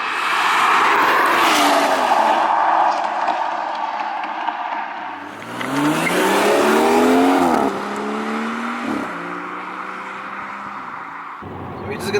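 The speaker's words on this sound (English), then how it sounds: "The standard exhaust on this car versus the MPE, you can clearly tell the difference." A BMW M240i or M140i fitted with an M Performance exhaust is driven hard. The engine note climbs through the revs, drops at gear changes, then pulls up again, loud and close with a raspy edge.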